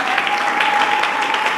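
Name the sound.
congregation applauding in church service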